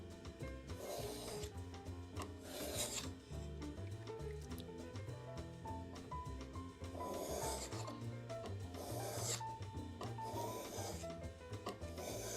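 Plane iron bevel from a century-old Stanley No. 5 rubbed on 600 grit sharpening abrasive, close gritty rasping strokes back and forth in a steady rhythm.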